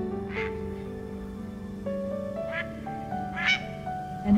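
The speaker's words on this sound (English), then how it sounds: "ducks and shorebirds migrate from the north, from Alaska and Canada." Migrating ducks quack in a handful of short, separate calls spread across the span, moderately near and heard over a steady, sustained musical background.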